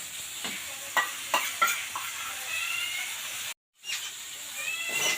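Vegetables stir-frying in a pan with cucumber paste, turmeric and chilli powder: a steady close sizzle punctuated by several sharp spatula scrapes and knocks early on, with a brief dropout before the frying hiss resumes.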